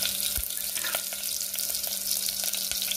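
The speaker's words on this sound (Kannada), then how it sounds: "ಒಂದು ಟೇಬಲ್ ಚಮಚ ತುಪ್ಪ ಹಾಕೊಂಡ, ಮೆಣಸು ಹಾಕೊಂಡೆ" Black pepper frying in a tablespoon of hot ghee makes a continuous close sizzle scattered with sharp little pops and crackles, heard alone without talk.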